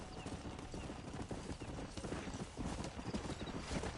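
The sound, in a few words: horse hooves and whinnying in Red Dead Redemption video game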